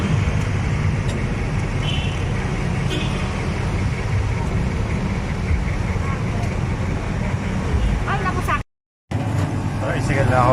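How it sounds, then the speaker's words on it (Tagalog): Steady road traffic heard from a tricycle ride near a chapel in Tandang Sora, a continuous dense rumble of cars, buses and engines with a brief dropout near the end; voices murmur faintly in the mix. "Nabutan na kasi ako ng traffic."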